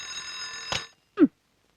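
An alarm rings at close range with a bright, buzzing tone for under a second, then cuts off and is followed by a single soft thump in a quiet bedroom.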